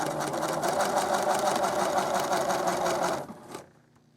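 A sewing machine runs a regular straight stitch through faux fur applique, with a fast, even whirring hum for about three seconds that then slows and stops.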